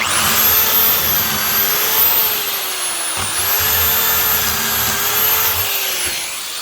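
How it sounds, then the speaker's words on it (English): A power drill whines steadily at high speed for several seconds, loud and close, drilling pocket holes with a pocket hole jig, pausing briefly midway before spinning up again. "start drilling to make our pocket holes"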